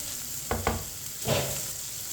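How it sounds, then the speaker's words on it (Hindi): Chicken macaroni fries in a pan under a constant sizzle as salt is stirred in, with two quick spoon scrapes followed by a longer stirring sweep, close and clear without speech. "नमक को मिक्स कर लेंगे।"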